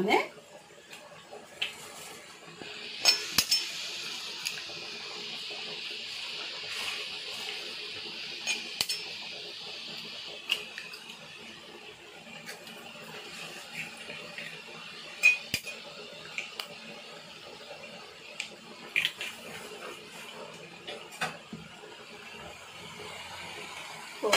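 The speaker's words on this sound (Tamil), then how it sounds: "முட்டை வந்து முட்டை வந்து உடச்சி ஊற்றிக்குவோம்" Eggs cracked and poured into a cabbage fry (kose poriyal) in a pan: sharp clicks and clinks scattered over a steady hiss of frying, with a few louder knocks close by.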